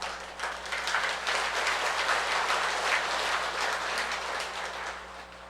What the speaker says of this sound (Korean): 박수 소리가 시원찮네.